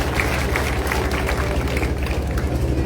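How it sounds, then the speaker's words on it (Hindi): A crowd at a Mahila Congress rally in Darba Kalan claps steadily, a dense, continuous patter of many hands with no talking. "तालियों के साथ एक बार करें।"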